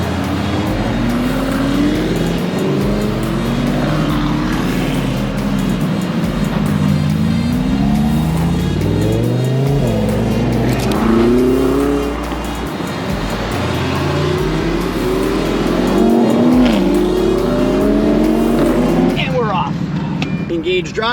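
Lamborghini Urus SUVs at Sebring Raceway starting up and revving nearby, a loud continuous engine drone with rising and falling rev sweeps under steady talking.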